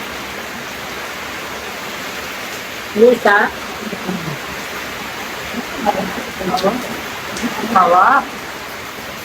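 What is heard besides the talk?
heavy rain falling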